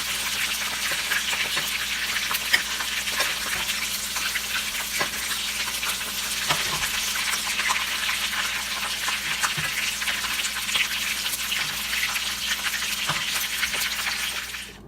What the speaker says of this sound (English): So the fish is all fried up.